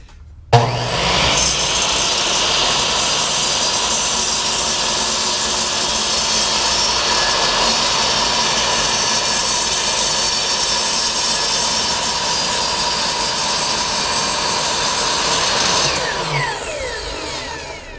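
A power saw cuts through a clamped wooden board stacked on a bottom piece, a loud steady whine running for about fifteen seconds before spinning down.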